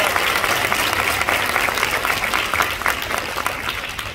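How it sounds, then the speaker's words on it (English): Loud, sustained applause fills a debutante cotillion hall as the crowd claps for parents and guardians, a thick continuous roar of many hands, slowly tapering toward the end. "I also would like us to give a round of applause to all the parents and guardians supporting these young people tonight"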